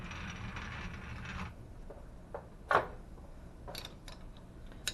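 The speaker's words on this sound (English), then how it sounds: "We're going to loosen up the compound here." The compound rest of a metal lathe is loosened with a wrench, giving faint ratcheting clicks and a single sharper metallic clack amid quiet workshop background, with a few light taps afterward.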